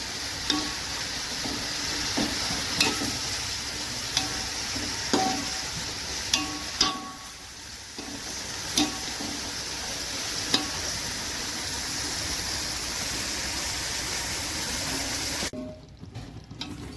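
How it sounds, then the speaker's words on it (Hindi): Chopped onions sizzle steadily in hot oil with a little salt while being fried for biryani, and a spoon clicks against the pan in a loose rhythm throughout. "ये प्याज फ्राई कर रही थी मैं बिरयानी के लिए।"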